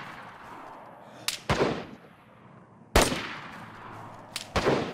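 Gunfire in the survival video game DayZ, with a few sharp reports, two of them in close pairs, cracking out over quiet ambience with decaying echoes.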